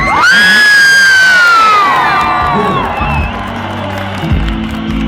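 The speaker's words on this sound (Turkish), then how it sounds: "Malatya'da şarkı söylerken seyirci şarkıcının sesini bastırır" Concert crowd in Malatya singing loudly together and cheering, a dense mass of voices carrying the melody with whoops and shouts, filling the space and dominating throughout.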